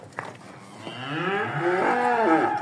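Hereford bulls moo loudly and close by, one long drawn-out bellow swelling over a quiet farmyard background.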